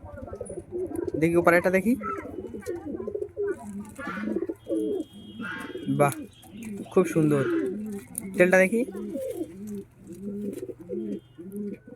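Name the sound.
Pakistani high-flying Laldumma pigeon cooing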